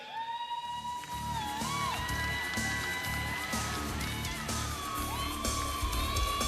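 A crowd at a STIHL Timbersports hot saw competition cheers, whoops and shouts continuously at a lively level, with scattered whistles and excited voices blending into a steady roar.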